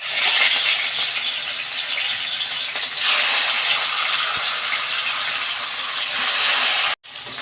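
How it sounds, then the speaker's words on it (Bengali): Pieces of katla fish frying in hot oil give a loud, close, continuous hissing sizzle that swells midway and briefly cuts out near the end, with no talking. "মাছগুলো আমি ভেজে নিচ্ছি"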